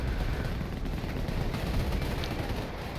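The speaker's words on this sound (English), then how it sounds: "Some artillery coming in to try to protect this Panther." Artillery fire in a Company of Heroes 1 urban 4v4 tank battle, with a dense continuous rumble of distant shelling and gunfire rolling on steadily throughout, no voices.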